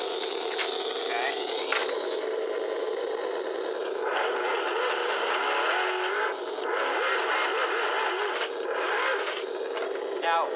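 RC sound kit in an Axial SCX10 Dead Bolt crawler playing a simulated engine: a continuous buzzy electronic engine drone that revs up in sweeping surges, heard close and loud throughout.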